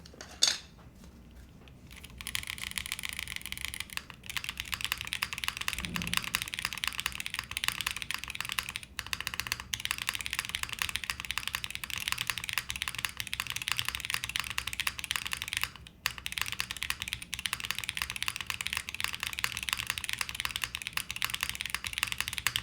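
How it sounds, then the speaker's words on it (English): Typing on a Leo80 custom TKL mechanical keyboard with HMX switches and a PC plate: continuous fast keystrokes with a crisp clack, close and even. Brief pauses break the run, and no one speaks. "Wait, the PC on the HMX switch kind of sounds nice."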